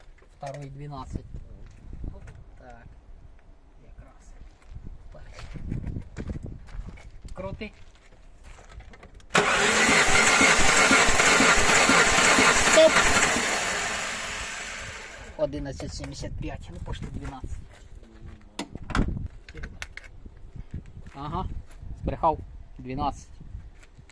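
An Opel Calibra with a C20NE engine is revved hard at full throttle, a loud sustained roar lasting several seconds and then dropping away. Short bursts of other noise and voices come before and after it.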